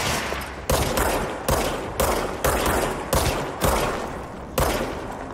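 Enemy gunfire in the game Control: a string of regular, evenly spaced shots, about seven cracks each trailing off, moderately loud and clear with no talk over them.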